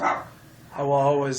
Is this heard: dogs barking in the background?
yes